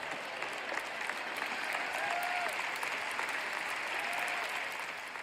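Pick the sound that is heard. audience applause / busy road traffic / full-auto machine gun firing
audience applause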